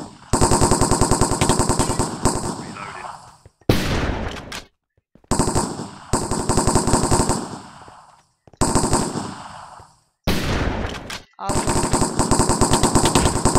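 Rapid shotgun-style gunfire in a Minecraft game played like CS:GO, loud, near and with heavy echo, coming in several long dense bursts split by short gaps of silence.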